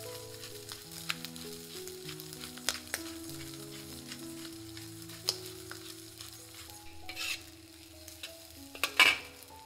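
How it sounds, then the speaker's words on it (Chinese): Tomato egg fried rice tossed and stirred in a hot wok, a steady soft sizzle broken by scattered scrapes and clinks of the spatula against the pan, with a busier clatter of stirring near the end. "翻匀了起锅"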